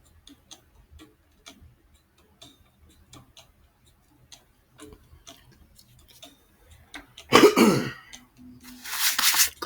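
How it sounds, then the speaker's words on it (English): A person clears their throat once, loudly and close, before reading a poem aloud; faint ticking runs through the quiet beforehand, and a rough noisy burst follows the throat-clearing. "Clear my throat for this."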